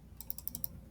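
A short burst of computer keyboard typing while editing a project: about six quick, evenly spaced clicky keystrokes, close and fairly quiet, with no talking.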